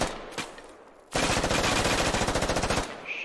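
Automatic rifle fire from the military shooter game Squad, a sharp crack followed by a sustained rapid burst of evenly spaced shots, loud and close, with no voices.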